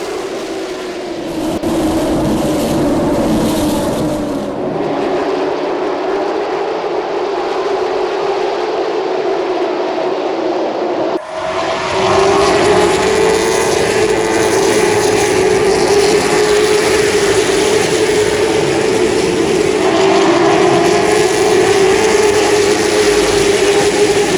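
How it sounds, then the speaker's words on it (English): Race car engines roar at a Langley race track start, a loud sustained mechanical drone that shifts pitch midway as the revs climb and hold, with no voices. "Drivers, start your engines."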